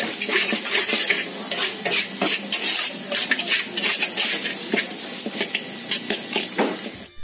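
Goat fried rice being stir-fried in a pan at a Padang Panjang eatery, with a spatula clattering steadily and rhythmically against the metal over a continuous sizzle, close and loud throughout with no talk.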